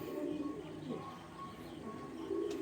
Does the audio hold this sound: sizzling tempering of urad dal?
no